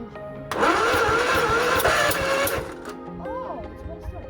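An old tractor engine that has sat unused for four years cranks over, a loud sustained whirring churn from the starter lasting about two seconds, then fading into quieter mechanical chatter.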